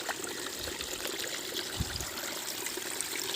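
Water trickling and flowing into a village crop field, a steady close-up wash of running water with no talk over it.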